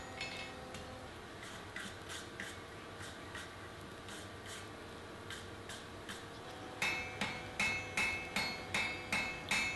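A blacksmith hammers a forge-welded carbon steel bit on an Anglo-Saxon adze against an anvil, lighter regular taps at first, then a run of louder, ringing strikes in a steady rhythm near the end.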